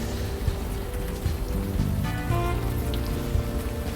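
Steady rain patters and hisses without a break in the video game Unavowed. A dense, even downpour plays under faint low tones, and no one speaks.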